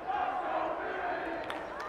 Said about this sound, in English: a sarcastic cheer maybe from the Box Elder fans